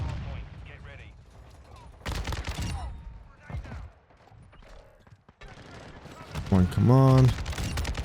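Kastov 762 rifle fire in a Call of Duty game, several loud bursts of gunshots in quick succession, mixed with game effects, while someone speaks briefly over it.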